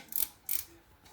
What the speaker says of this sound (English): You need to remove the bolt and drop off the filter holder at the bottom.